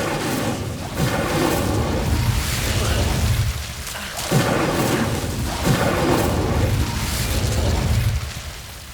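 A roaring burst of the Incendio fire spell in Hogwarts Legacy, loud and close, with a whooshing, crackling blaze surging in several waves over a few seconds, amid combat noise.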